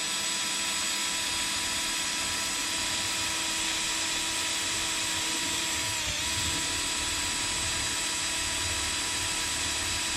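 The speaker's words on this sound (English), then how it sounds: "we're using a high-speed drill, high RPMs, and light pressure" High-speed drill running at high RPM with light pressure through a plexiglass aircraft canopy, a steady loud whine and hum held throughout, with no talk.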